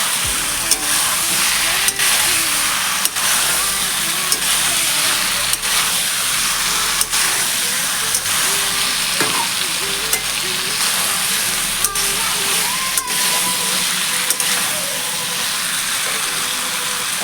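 Jackfruit and prawns frying in a pan give a loud, continuous sizzle, with regular scraping knocks of a spatula as the ingredients are stirred and mixed together.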